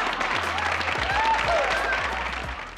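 Applause at an online machinima movie and TV awards show, a continuous wash of clapping over a low, tonal background bed, holding steady for a few seconds.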